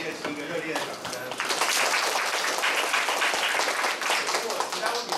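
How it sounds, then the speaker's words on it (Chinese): A conference audience applauds at the end of a technical talk, a dense burst of clapping that swells after a moment and holds steady, with a voice speaking over its start. "请各位给你们ESG一个热烈的掌声"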